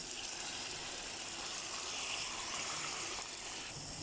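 Water poured into a cooking pot of goat meat curry with tomato paste, spices, curry leaves and green chillies, heard as a steady, close hiss of liquid running for about four seconds, alone.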